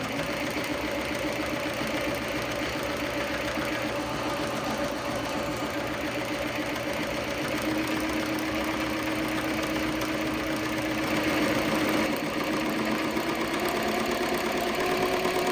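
A Ricoma embroidery machine stitches an appliqué onto a T-shirt, a steady rapid mechanical whir and chatter that runs on continuously and evenly without pause.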